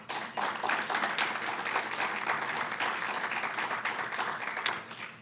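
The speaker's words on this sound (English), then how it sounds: "But we can give them a round of applause for all four" Steady applause fills a hall at an awards ceremony, a full audience clapping evenly for several seconds, with one sharper clap standing out near the end.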